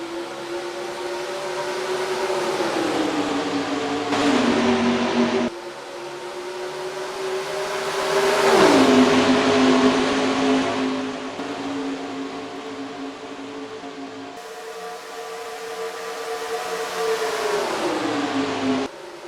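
Stock cars race at Darlington in NASCAR Racing 2003's Southern 500, a loud, steady multi-engine drone whose pitch dips and climbs as cars pass and shift, running the whole time without talk.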